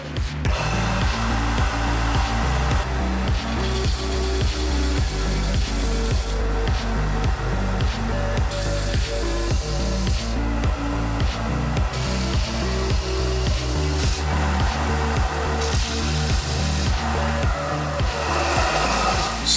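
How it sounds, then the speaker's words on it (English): A belt sander grinding a long wooden hex prism, loud and continuous with a droning motor and rhythmic rasping as the workpiece is pressed and shifted, no talking. "I'm going to be using the belt sander."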